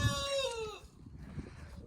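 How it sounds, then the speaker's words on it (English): A backyard chicken gives a drawn-out, descending squawk followed by quieter low clucking nearby, with no voices. "Chickens are still taking dirt baths."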